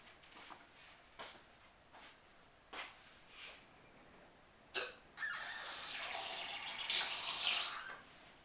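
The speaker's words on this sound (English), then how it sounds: "I've got the hiccups." Man with hiccups gives a series of short, sharp hiccups spaced about a second apart, close and fairly quiet, followed by a longer hiss of running water from a tap.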